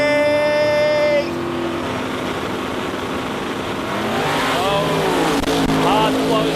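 Sports compact drag racing car launching hard at the Sydney drag event, a loud, high-revving engine roar with shifting harmonic sweeps and a bang-like burst near the end, dense crowd and commentary noise underneath.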